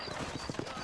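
Horse hooves clip-clopping in a Western setting in Red Dead Redemption as riders mount up, a quick run of soft, close hoof knocks over a steady ambient bed, with no voices.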